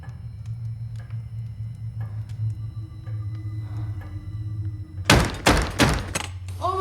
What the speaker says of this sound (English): there's a bang at the door!